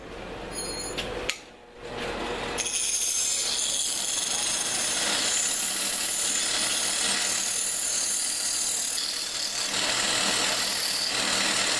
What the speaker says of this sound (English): I'm going to take it over to bench grinder and clean them up a little